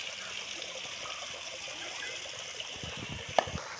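Gentle, steady trickle of the low-flow Rupali waterfall in Bandarban, a faint continuous wash of falling water with a few soft splashes and knocks near the end.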